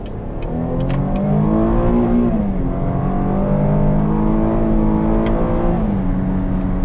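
A 2020 Cadillac XT6 Premium Luxury engine revs up through the gears of its 9-speed automatic in manual mode, a loud continuous drone that climbs in pitch, dips at each shift, and climbs again.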